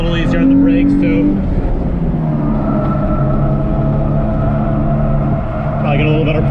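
Modified track-day race car circling Lime Rock, its engine holding a loud sustained drone from the cabin with small pitch changes through corners, while a driver's voice runs over it.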